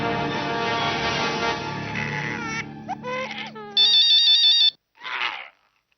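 A telephone ringtone plays loudly in a domestic setting, a melodic electronic tone repeating in bursts with brief gaps, followed by a short higher chirp near the end.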